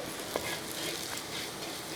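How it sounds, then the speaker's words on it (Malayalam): Onions with garam masala and pepper powder fry in a pan for a beef dish, giving a faint, continuous sizzle with a light stir or two. "ഇനി ഒന്ന് ഇളക്കി കൊടുത്ത്"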